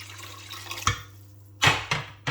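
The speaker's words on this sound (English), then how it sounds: "Now we'll just pour in most of the water initially" Water poured into a pot of lentil and cardamom soup gives a few splashing, sloshing bursts over a steady low kitchen hum, close and fairly loud, with no talking.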